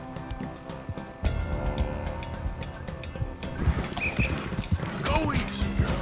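Hooves of a galloping horse in Red Dead Redemption 2 clop in a quick, steady rhythm with game ambience and occasional bird calls, and someone speaks over them partway through.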